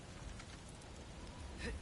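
Steady rain hisses through a desert storm in the God of War game world of Alfheim, faint and continuous with no other sound standing out.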